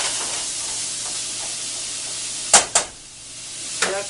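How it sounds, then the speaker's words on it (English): Onion and bacon frying in a pan, a steady broadband sizzle close up, broken by two sharp clattering bursts and a later softer knock, with no voices. "you can just put your onion in. And you're going to cook that until the onion is lightly brown"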